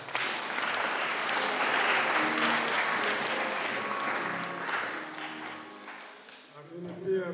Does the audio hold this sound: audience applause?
yes